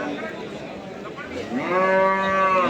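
A buffalo at a livestock market gives one long, loud, drawn-out moo that swells in the second half of the clip over steady crowd noise.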